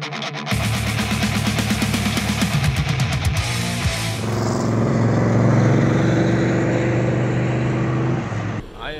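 A SEMA show car's engine, heard loud and close: a rough idle with rapid pulsing gives way to a revving surge, then settles into a steady, throaty run before cutting off.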